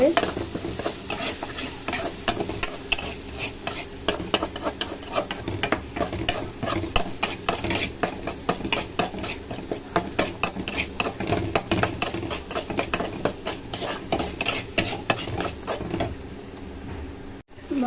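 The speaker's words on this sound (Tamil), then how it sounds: "எண்ணெயிலே வதக்குங்க" Onion, tomato, garlic and spices fry in oil in a pan, giving a steady sizzle broken by frequent scraping, clattering stirs of a spoon against the metal, close and continuous throughout.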